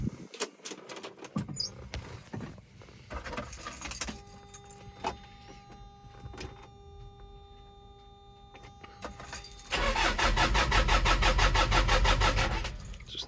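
A 1983 Mazda B2200 pickup with a 2.2L Perkins diesel is started on a cold morning: keys jingle, the starter cranks, and the diesel catches into a loud, steady clattering idle.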